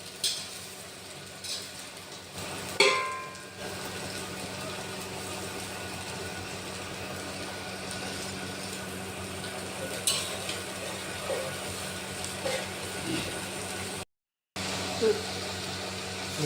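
Cabbage and onion stir-fried for egg fried rice in a paying-guest hostel kitchen: a steady, close sizzling hiss with scraping of the spatula. A few louder clanks come near the start and around the middle.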